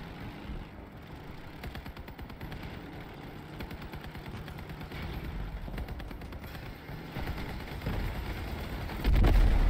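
Vehicle-mounted machine guns firing in the Crossout vehicle combat game, a dense stream of rapid shots over a rumbling engine, building louder toward the end with a heavy burst at the close.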